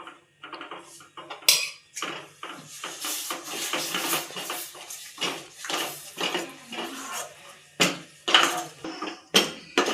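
A spoon scraping and clinking against a pan while besan flour mixture with ghee cooks on low heat for besan barfi, with repeated close metallic scrapes and taps in an irregular rhythm and no talk.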